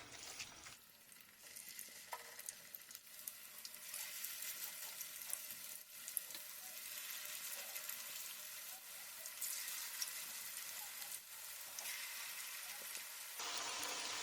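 Steady, close sizzling of small vegetable pakora balls frying in hot oil in a pan, a continuous crackling hiss with small pops throughout and no voices.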